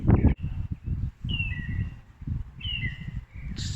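A mockingbird sings outdoors in Texas in two clear whistled phrases, bright and fairly close, over a rumbling low background noise.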